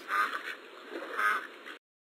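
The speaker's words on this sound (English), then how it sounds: "Duck." A duck quacks in two loud, nasal bursts about a second apart, close and alone, then cuts to silence.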